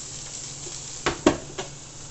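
Stuffed chicken breast filled with spinach and cheese sizzles steadily on a hot grill, a soft continuous hiss broken by three short sharper crackles or pops.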